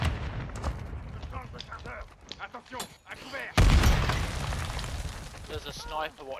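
Gunfire rings out in a shooter video game, a dense, busy wash of shots and impacts with a sharp, heavy burst midway, mixed under continuous talk among players.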